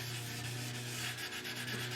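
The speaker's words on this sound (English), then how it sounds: "So you can hear it when I'm sanding." Steady, rough scratching of sandpaper rubbing back and forth on the wooden body of a DIY Thinline Telecaster guitar, close and continuous over a low hum.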